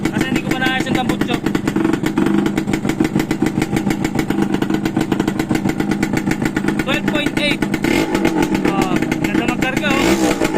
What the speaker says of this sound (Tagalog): Pasensya na kayo, medyo maingay pa. Kasi hindi ko pa naayos yung tambutso.